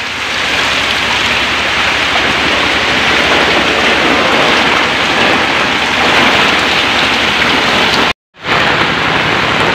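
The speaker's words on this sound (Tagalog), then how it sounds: "Oh, malakas ang agos." Strong floodwater current rushing across an island during a flood, a loud, steady broadband roar like heavy rain that continues for the whole stretch, broken by one brief dropout near the end.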